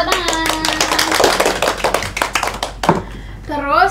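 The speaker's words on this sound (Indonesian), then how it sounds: "Tepuk tangan." A classroom of students claps together in a quick, scattered round of applause, dense rapid hand claps mixed with children's voices and a teacher speaking over them.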